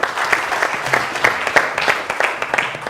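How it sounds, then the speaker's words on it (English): Applause from students at a school quiz challenge, a moderate crowd clapping with distinct individual claps standing out, steady for a few seconds. "Let's give a huge round of applause to Shaq."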